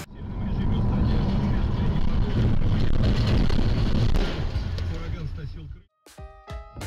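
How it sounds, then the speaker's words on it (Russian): A loud, steady engine roars for about six seconds, rising and holding with some wind noise, then cuts off abruptly into near silence followed by a few sharp clanks and rattles. "Красивый звук мотора"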